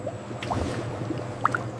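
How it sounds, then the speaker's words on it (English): Melted chocolate pours and drips over biscuits in a factory dipping machine, a soft wet trickle with scattered liquid plips over a steady low machinery hum. "A chocolate waterfall coats each biscuit evenly."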